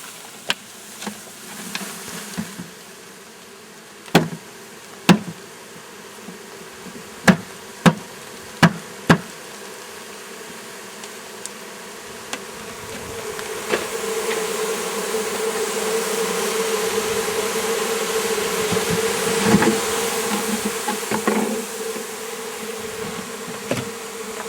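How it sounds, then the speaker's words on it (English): A honeybee swarm drones in a steady, close buzz that swells louder partway through, punctuated by several sharp knocks and taps from hive handling. "Welcome to your new home, honeybees."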